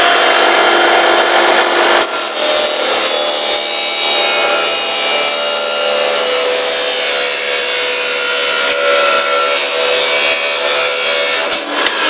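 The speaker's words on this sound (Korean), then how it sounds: "이번에는 철이라는 모재를 한번 잘라보겠습니다" A Makita 80V cordless concrete cutter, model CE001G, slices through steel at full speed, giving a loud, continuous high-pitched grinding whine that holds steady for the whole stretch with no talk.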